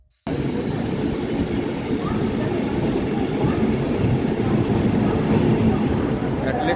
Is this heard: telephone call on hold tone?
no